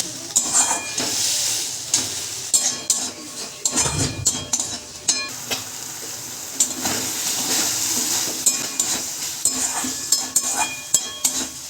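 A spatula scrapes and clinks against a pan in irregular bursts, over a soft sizzling hiss of black cumin spice paste and water sautéing.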